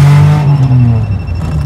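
A Maruti 800 car with AC has its engine revved up close, a loud rising then falling vroom lasting under two seconds, alone without talk.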